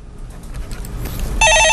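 A telephone rings once on a live call-in stock market show, the bright electronic ring cutting in sharply at the end after a short stretch of low studio background.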